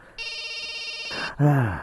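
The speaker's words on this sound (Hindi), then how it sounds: "बार बार फोन बज रहा है, उठाते क्यों नहीं हो?" A telephone rings with a steady, loud electronic bell tone for about a second before a brief burst of other sound and a short rising tone, heard alone with no talk, in a Hindi-dubbed horror film scene.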